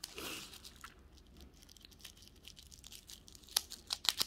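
Scissors cut open a package during a small craft-shop mail haul, a brief crinkling rustle at the start followed by sparse, quiet snips and crunchy clicks that grow sharper toward the end, close and without talk.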